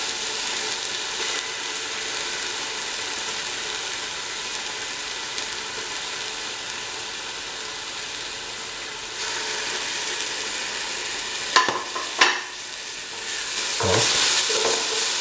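Ginger garlic paste frying in a pan for a cream chicken stew, a soft steady sizzle with a few sharp scraping stirs near the end, no talking.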